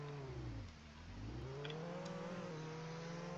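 Car engine in a video game rising and dipping in pitch as it revs, a droning whine that sags briefly then climbs and holds steady, fairly quiet under faint background noise.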